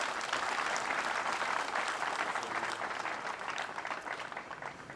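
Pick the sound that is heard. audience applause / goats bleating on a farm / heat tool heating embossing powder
audience applause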